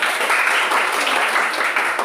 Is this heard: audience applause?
yes